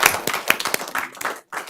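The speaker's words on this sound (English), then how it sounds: "one more applause, of course" Brief burst of audience clapping at a school board meeting, close and fairly loud, scattered hand claps that stop abruptly near the end before a few more resume.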